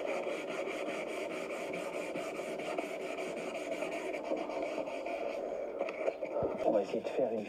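Abrasive paper rubs rapidly back and forth over a polycarbonate car headlight lens, a steady rhythmic scratchy rasp close up that continues throughout, with a voice talking over it.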